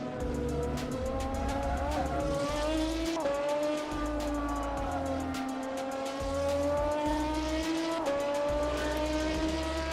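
A Maserati race car in a racing video game revs and shifts repeatedly, engine pitch climbing and dropping in cycles with tire squeal, loud and continuous with no talk.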